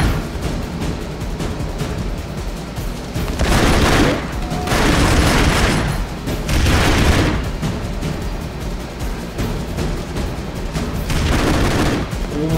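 Video game grenade blasts and gunfire from Broforce roar in a dense, loud barrage, with heavier booming swells every couple of seconds over continuous crackling chaos.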